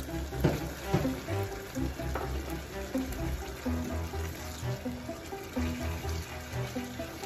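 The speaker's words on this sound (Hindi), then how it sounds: "आधा ग्लास जो है हम यहाँ पे पानी का ऐड कर देंगे।" About half a glass of water hits a hot pan of chicken shashlik gravy over a high flame, giving a continuous close sizzle and bubbling hiss with faint stirring and no talk.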